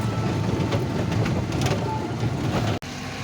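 Traffic rumbles steadily under the Maligaon bridge near the railway station, a dense, continuous roar of passing vehicles heard close up without distinct individual passes, cut briefly near the end.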